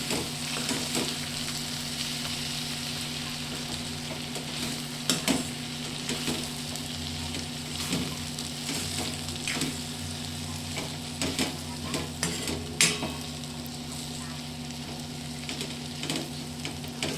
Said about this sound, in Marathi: आता तिला अशी छान मिक्स करून घेऊया.